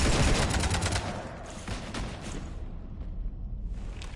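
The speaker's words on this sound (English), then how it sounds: "You want to stop shooting up my ship?" Sustained gunfire strafing a ship in the Mass Effect 3 video game, a dense loud volley at first that thins and fades out over a few seconds.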